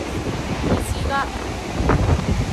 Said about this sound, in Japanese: 風が少し強いです。